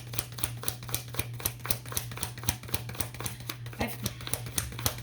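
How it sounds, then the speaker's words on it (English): Rapid, evenly spaced papery flicks repeat throughout as tarot cards are shuffled, over a low steady hum. "Let me finish shuffling and then I'll tell you."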